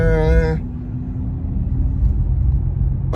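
Inside a moving car, a low steady road rumble runs throughout, with someone talking briefly over it at the start before it continues alone.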